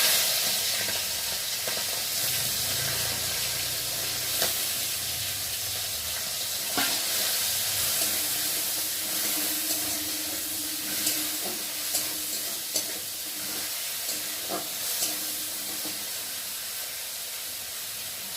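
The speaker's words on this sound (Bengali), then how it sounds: "আর এখন এই যে কেটে রাখা চিংড়ি মাছগুলোকে দিয়ে ফার্স্টে ভেজে নেব" Cut prawns fry in hot oil for a pumpkin-greens chorchori, a continuous near sizzle and hiss with occasional sharp pops and crackles scattered over the length.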